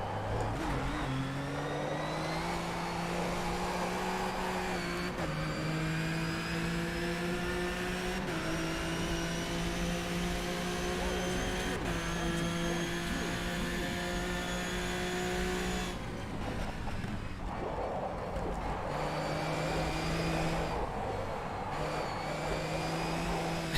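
Racing car engine droning steadily through gear changes in the sim game Automobilista 2, with long tyre skid and scrub squeals layered over the motor, continuous and loud throughout.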